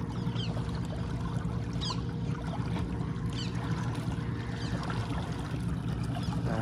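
A Bison 55 electric outboard motor pushes a 14ft skiff along at speed, heard as a steady low drone mixed with continuous rushing, splashing water from the wake, with a few faint bird calls above.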